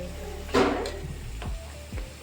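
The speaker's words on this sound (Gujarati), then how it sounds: "આપણે એને હલાવી દઈશું." Boiled potatoes with red chilli, turmeric and coriander-cumin powder are stirred dry in a pan, a soft sizzle broken by a few short scraping stir strokes, with no talk.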